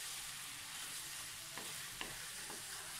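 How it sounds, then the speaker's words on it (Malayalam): Pepper chicken being stirred in a pan after garam masala is added, a constant low sizzle with a few faint spoon scrapes, quiet and close. "നമുക്ക് ഗരം മസാല ഇടാം. നന്നായിട്ടൊന്ന് ഇളക്കി കൊടുക്കാം."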